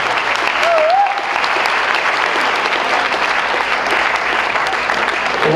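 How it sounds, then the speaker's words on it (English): Wedding reception guests give a sustained, loud round of applause after a toast to the bride and groom, with even clapping throughout and a brief whistle near the start. "Give a round of applause for Melissa, everybody, Melissa."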